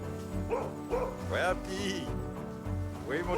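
Iditarod sled dogs on a long-distance dog sled race bark and yip in short repeated bursts close by, several barks in quick succession over a steady background hum.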